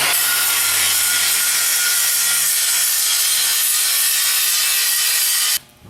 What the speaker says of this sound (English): hold it up where I grind that other side right there.